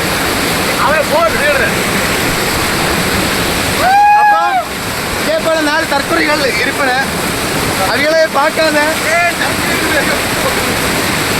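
Aruvikkarai waterfall in Kanyakumari pours in a constant loud rushing roar of water, with someone talking close over it throughout and other voices briefly in the background.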